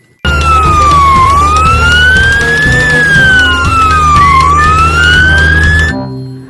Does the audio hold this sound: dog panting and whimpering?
no